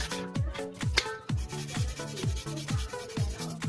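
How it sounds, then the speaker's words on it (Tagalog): A clear plastic motorcycle helmet lens is rubbed with 240 grit sandpaper in steady, rhythmic back-and-forth strokes, close and fairly loud, about two strokes per second with no talking. "gagamitin natin yung number 240 para magasgas siya"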